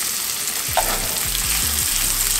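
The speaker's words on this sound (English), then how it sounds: "if you hear that sizzle, then it's ready to go" Chilean seabass sizzles in hot oil in a pan over high heat, a steady close frying hiss broken by a few soft scrapes and stirring knocks.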